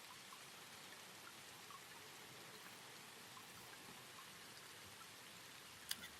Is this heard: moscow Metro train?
no